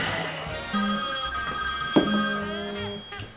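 A telephone bell rings for an incoming caller during a live radio-style call-in show, with short bursts repeating at a moderate level and no talk over them.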